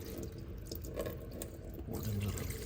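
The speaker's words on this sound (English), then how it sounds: "I'm gonna pour in water." Water pours into the empty tank of a GEVI household nugget ice maker, a close, steady trickling splash lasting a few seconds with a slightly fuller gush near the end, without any talking.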